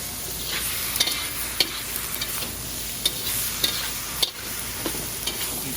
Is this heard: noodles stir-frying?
yes